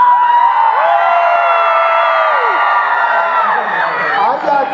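A large crowd screams and cheers loudly, with many overlapping high-pitched voices and whoops rising and falling in a sustained roar.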